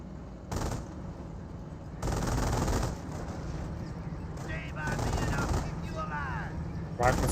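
Rifle and machine gun fire from Rangers in the World War II strategy game Company of Heroes: dense rattling bursts that start and stop sharply, with overlapping battle noise throughout.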